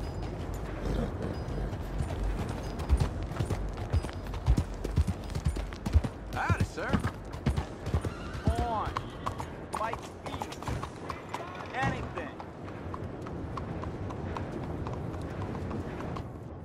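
Horse hooves clip-clop on a city street in the video game Red Dead Redemption 2, an uneven run of close, loud clops, with voices talking over parts of it.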